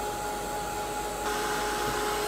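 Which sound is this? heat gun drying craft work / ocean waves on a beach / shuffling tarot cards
heat gun drying craft work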